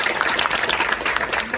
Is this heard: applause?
yes